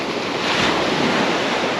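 Strong wind rushes across the shore of Lake Macquarie, a loud, steady broadband roar buffeting the microphone with gusty swells, close and continuous with no voices.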